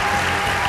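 Audience applause at an award ceremony greets a recipient stepping up, a brief, dense wash of clapping with no voices over it.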